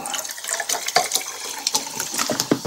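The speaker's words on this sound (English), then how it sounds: "Just going to get myself a little drink of mineral water because I'm a little bit thirsty." Carbonated mineral water is poured into a glass, with close splashing and fizzing pops scattered through a short pour.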